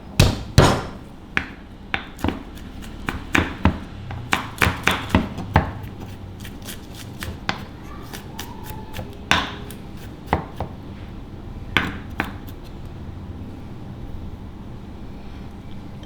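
Two garlic cloves are smashed and chopped with a knife on a cutting board, heard as sharp, close, irregular thuds and taps. Dense bursts come early, then the hits grow sparser and quieter.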